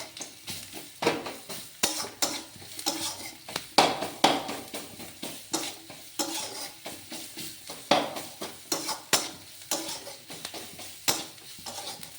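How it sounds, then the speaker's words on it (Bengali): Onion, chilli and curry leaves fry in a pan, a steady sizzle broken by a regular series of scraping stirs and light clanks of a spatula against the metal. "পেঁয়াজ লঙ্কা কারি পাতা সব বেশ একটু লাল লাল ভাজা হয়ে গেলে"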